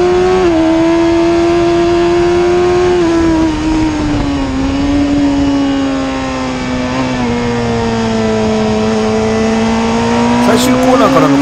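Onboard a Suzuki Hayabusa racing motorcycle accelerating at Tsukuba during a Taste of Tsukuba race, the engine note is a loud, steady high whine that rises and falls slightly through the gears. It stays close and continuous for the whole stretch.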